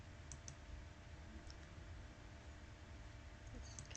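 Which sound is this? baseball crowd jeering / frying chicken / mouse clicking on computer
mouse clicking on computer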